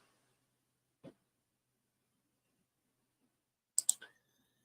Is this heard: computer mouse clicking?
yes